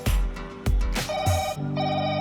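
Mobile phone ringtone sounding indoors, a short melodic ring tone close and clear, with a few soft knocks or thumps early on and no speech.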